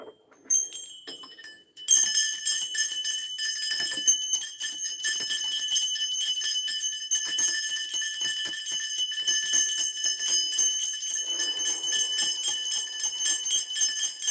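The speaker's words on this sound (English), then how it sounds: "Let's just get some bells going." Bright bells ringing and jingling continuously, a shimmering metallic chime with repeated strikes that starts after a short sparse opening and stays loud and close throughout, with no talking over it.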